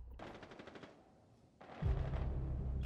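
Gunfire in a video game: a rapid burst of shots, then a brief lull, then another sharp volley of shots that settles into continuous heavy booming, fairly loud with no talking over it.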